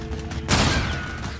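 A single gunshot fired at a symbol in Call of Duty zombies, a sharp loud crack that breaks through a steady background hum and is followed by a short ringing tail.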